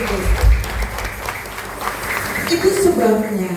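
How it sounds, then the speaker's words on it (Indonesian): Applause rises from a church congregation at a Christmas service, steady broadband clapping under a talking voice, with sustained keyboard tones entering toward the end. "Tepuk tangan untuk Tuhan Yesus Kristus"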